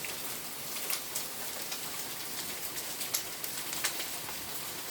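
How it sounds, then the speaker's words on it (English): Large hailstones pelt down during a heavy hailstorm in Cardiff, a steady dense patter with sharper individual impacts popping out of the constant wash, and faint bird cooing in the background. "This is a serious hailstorm."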